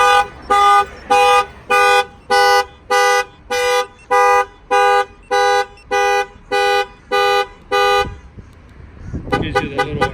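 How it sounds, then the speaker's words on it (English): A 2017 Chevy Silverado alarm blares in a steady series of about a dozen evenly spaced honking tones, then stops and a jumbled electronic chirping follows. "If anybody tries to open the door, you know, Slim Jim the car, the alarm will fire off."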